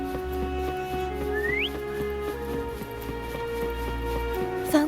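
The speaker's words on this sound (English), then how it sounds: "Try whistling." A single short, rising whistle in the video game Wuthering Waves sounds briefly over soft, steady background music.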